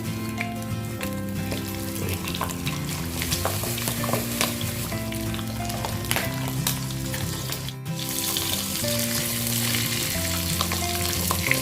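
Eggplant fries in hot oil, a steady dense sizzle and crackle that continues at an even level throughout, with faint background music tones underneath.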